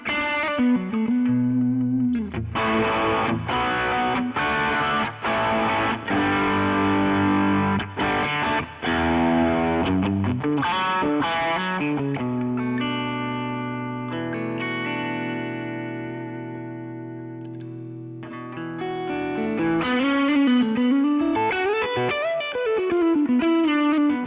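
Electric guitar through a Boss Katana amp with the treble turned down and a touch of reverb, playing sustained chords and melodic lines with a steady, full tone, alone without talk.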